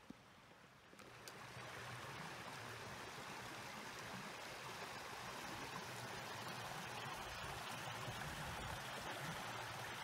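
Clear stream water flows and splashes steadily along a hiking trail in Red River Gorge near Auxier Branch, a close, continuous rushing wash with no voices.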